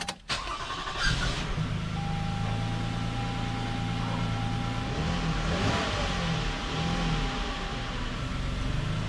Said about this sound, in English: So I'm going to be starting up the vehicle.